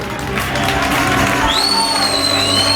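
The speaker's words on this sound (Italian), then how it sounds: "Un applauso per Chiara, sesta classificata." An audience claps and cheers loudly at an outdoor Miss Odissea Estate beauty pageant, a dense continuous wash of applause with whistles and shouts throughout.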